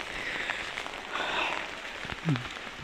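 Rain falls beside a poor village house, a steady pattering hiss of drops on surfaces with scattered taps, and a brief tonal sound rising near the end.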